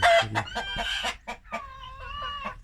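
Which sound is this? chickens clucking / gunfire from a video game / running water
chickens clucking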